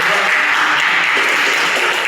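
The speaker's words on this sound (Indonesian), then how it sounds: "kita berikan tepuk tangan." Audience at a college teaching session in an auditorium gives a short, even round of clapping, a steady dense patter with no talk over it.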